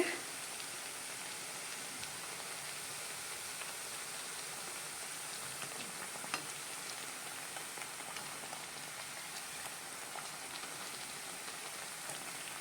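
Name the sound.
nippattu frying in oil on medium flame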